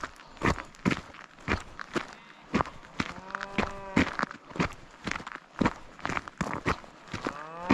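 Cattle mooing loudly outdoors near a farm fence, repeated deep, drawn-out calls from nearby animals, with footsteps and buzzing flies in the background.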